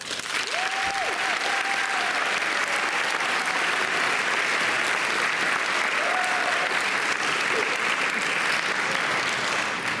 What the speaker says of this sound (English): please recognize these students with a round of applause